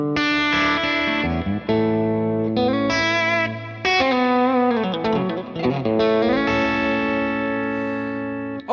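Electric guitar running through a Fractal FM3 amp block with reverb, set up as a worship tone; sustained chords and melodic notes ring out continuously and close, with a lush reverb tail and no talking.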